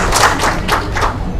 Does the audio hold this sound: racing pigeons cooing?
no